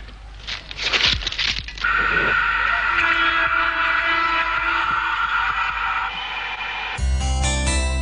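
A train rumbles steadily with a drawn-out whistle tone, heard through the rail with an ear pressed to it, after a few clattering knocks, ending in a louder burst of rail noise.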